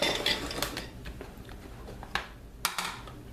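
A cutting board and kitchen pots and utensils are set down on a counter while scrambled eggs are being made, giving a few soft clatters and clinks close by with no talking.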